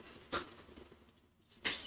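A dog gives two short, sharp barks a little over a second apart, faint and somewhat distant against a quiet room background.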